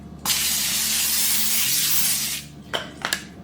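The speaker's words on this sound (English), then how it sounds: "I'm going to spray that parchment with some cooking spray" Cooking spray hisses from a can onto a parchment-lined baking sheet in one long continuous burst, followed by a couple of short quick puffs. The sound is close and clear, with no talking.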